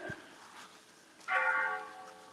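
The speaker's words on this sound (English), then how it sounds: "So we're hearing the church bells. We are like, there we go, chiming, 4 p.m." Church bells chime at 4 p.m. on a village lane, sounding one clear ringing stroke that lingers and fades, fairly near, after a soft earlier tone.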